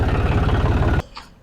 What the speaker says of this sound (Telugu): గైస్ ఇప్పుడైతే ట్రాక్టర్ అయితే పెడుతున్నా.